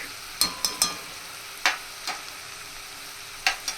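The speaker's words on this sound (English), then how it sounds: "saute it thoroughly. Saute it thoroughly." Chopped ginger and garlic with onion being sautéed in a pan, a handful of sharp spatula scrapes against a quiet low sizzle, close by and without speech.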